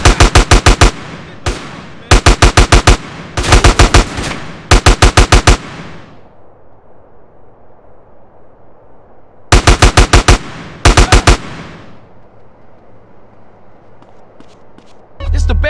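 Bursts of rapid machine gun fire from GTA San Andreas crack out in short, repeated volleys, loud and close, with a quiet stretch between the first cluster of bursts and two later ones.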